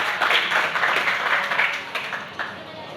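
Audience applause greets two journalists from El Periódico, editor Albert Sáez and reporter Cristina Huesa, at a Barcelona boat show event; a dense, steady wash of clapping that thins slightly toward the end.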